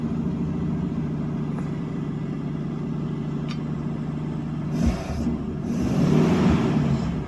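A 1952 Ford Customline flathead V8 idles after a cold start with a steady, low rumbling throb, then revs up briefly near the end, loud and close with no talk.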